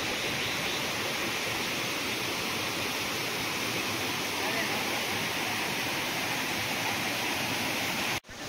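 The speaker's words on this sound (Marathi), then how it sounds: "तर मला आवाज येतोय धबधब्याचा" Babar waterfall in the Konkan region, a constant broad roar of falling water heard from a short distance, steady and unbroken until an abrupt cut at the end.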